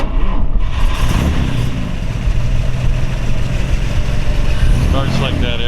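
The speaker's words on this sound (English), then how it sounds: "We'll let you hear it run and idle here." A 1952 Chevrolet with Smitty mufflers and a Fenton header runs and idles, a loud rumbling engine close by with a steady throb and slight surges, someone talking over it.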